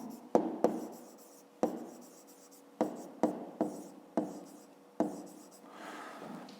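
A pen writes out a fifth-grade math exercise on paper, with separate taps and short scratchy strokes at irregular intervals, close and quiet.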